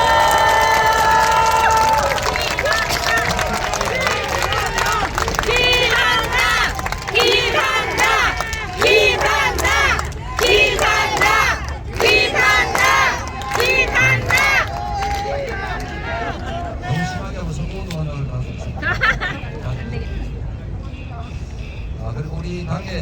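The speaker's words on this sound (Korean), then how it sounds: "자, 박수 한번 주십시오" An outdoor campaign rally crowd at Gangnam Express Bus Terminal breaks into applause and cheering, steady clapping and shouts filling the space, then thinning out gradually.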